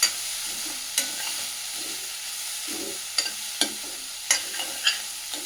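Soya chunks and corn frying in butter in a pan, a steady bright sizzle broken by the sharp scrapes and clinks of a spatula stirring every second or so, close up with no voices.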